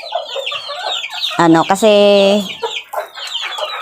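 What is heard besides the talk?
chicks clucking while being fed banana with rice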